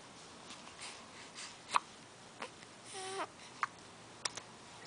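A baby hiccups, several small, faint, sharp catches spaced irregularly over quiet room noise, with soft breathy sounds between them.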